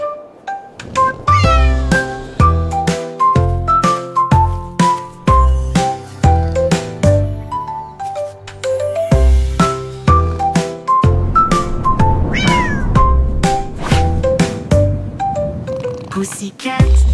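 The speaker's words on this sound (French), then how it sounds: "Un chat royal de rêve au clair de lune." Music from a French children's song, bright tuned notes struck in a steady rhythm over low bass tones, growing denser toward the end, loud and close with meow-like tones in the melody.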